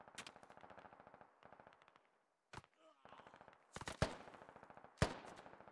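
Gunfire in the military shooter Squad: near, sustained machine-gun bursts in rapid rhythmic rounds, a brief pause, then louder single sharp shots and further bursts.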